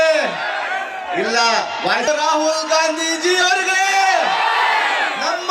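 A large crowd at a Congress Prajadhwani rally roars in unison, cheering and chanting for Rahul Gandhi; loud, massed shouts rise and fall in rhythmic waves with no pause.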